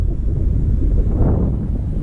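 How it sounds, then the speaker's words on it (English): Wind buffets a microphone outdoors during a drone flight, a close, loud, low rumbling roar held steady for two seconds. "All right, so it's getting a little bit windy."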